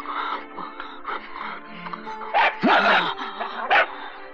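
Dogs let out a few short, snorting barks and yips, close by, in an irregular burst with quieter whimpering sounds between them.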